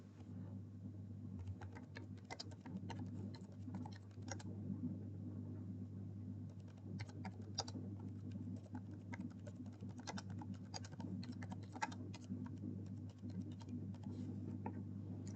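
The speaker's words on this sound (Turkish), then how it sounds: "E, denemelik bir şeyler yazalım." Rapid, light clicking of typing on a computer keyboard continues for about fifteen seconds, close but quiet, in irregular bursts over a low steady hum, with no talking.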